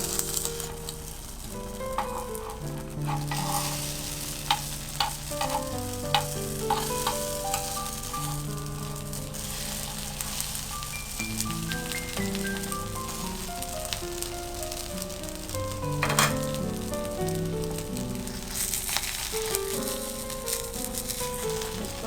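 Bread omelette sandwich frying in oil in a pan, a steady close sizzle with scattered crackles and pops running throughout, no voices.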